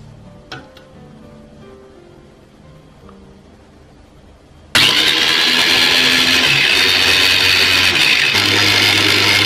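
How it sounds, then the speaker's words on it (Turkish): Blender whirring through chopped cucumbers and two spoonfuls of aloe vera for a face mask, starting abruptly after a quiet lead-in and running loud and steady to the end. "Aloe veramızdan sadece 2 kaşık koyup blenderdan bir güzelce geçiriyoruz."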